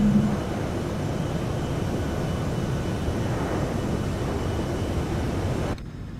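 Steady airliner cabin rumble in a PMDG 737-700 simulator as the landing gear lowers, a broad constant roar that holds loud and even for several seconds before dropping sharply near the end.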